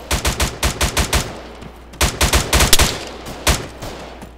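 Bursts of rapid automatic gunfire in a military video game, loud and close, come in two clusters of quick shots separated by a short pause, with a few scattered single shots afterward.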